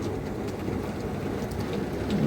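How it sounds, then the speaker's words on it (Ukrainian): Heavy rain pours down in a thick, constant roar with scattered drop hits during a thunderstorm in Cherkasy, steady and enveloping, no voices. "І в нас така злива. Навіть гроза."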